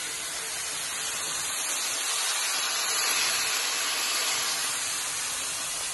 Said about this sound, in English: now I'm going to put my mixed meat into the pot. Stirring my mixed meat.